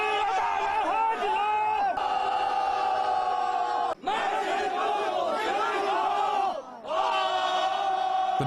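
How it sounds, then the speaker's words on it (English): On a mountaintop in Chongyang Town during the Double Ninth Festival, a crowd shouts together in loud, sustained group cries that rise and fall in long waves, with brief breaks between them. "这是喊着声，一起喊"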